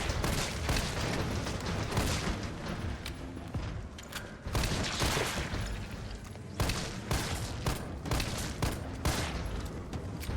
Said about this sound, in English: I'm pretty much mag dumping at this point